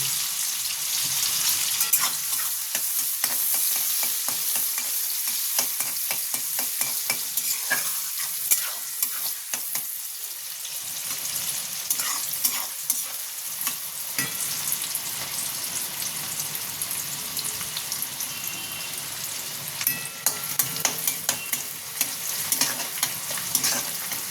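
Chopped onion fries in a pan until browned while being stirred, a continuous sizzle broken by frequent scraping and stirring clicks, fairly close and steady with no one talking.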